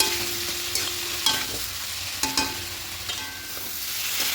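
Ground masala spices being stirred and fried in a pan for a lentil dal with prawns and Malabar spinach: a steady close sizzle broken by several sharp scraping strokes of a spatula.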